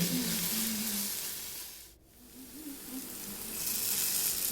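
Cumin seeds hit a spice masala in a hot pan, producing a loud, steady sizzle and hiss that dips briefly and then surges back, with a faint stirring undertone.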